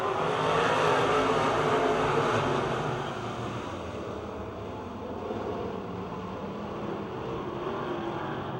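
Race cars roaring off at a green-flag start at Pittsburgh's Pennsylvania Motor Speedway, a dense, steady engine drone that is loudest at first and then eases to a sustained, slightly quieter roar.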